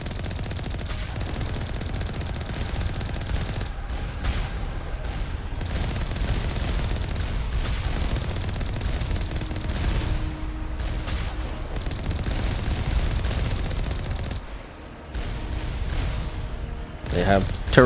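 Rapid turret gunfire crackles almost nonstop in Mass Effect (Legendary Edition), with dense bursts and booms layered over a constant loud battle din, a voice occasionally talking over it.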